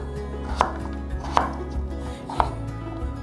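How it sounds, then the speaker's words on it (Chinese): A knife slicing through a peeled potato on a cutting board: three crisp, separate cuts, close and clear, spaced roughly evenly in a quiet kitchen. "把马铃薯切一半，把马铃薯切片"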